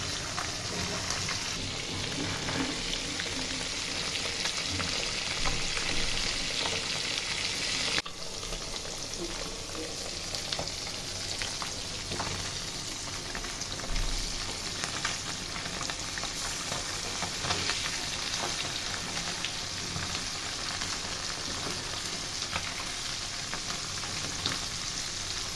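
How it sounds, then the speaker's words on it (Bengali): Small fish frying in hot oil in a pan, a dense continuous crackling sizzle with bubbling that holds steady throughout, close and loud. "3 থেকে 4 মিনিট করে এক এক পাশ ভাজছি।"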